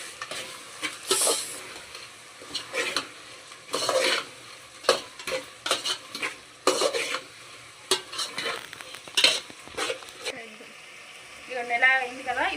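A spoon stirs chili powder and turmeric into a frying mixture for chicken tahari, with repeated scraping, stirring strokes over a steady sizzle, close and loud in bursts, a person talking in between.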